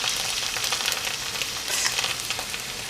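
Fried onion mixture being stirred into borscht soup, a steady close crackling sizzle with faint stirring scrapes and no talk.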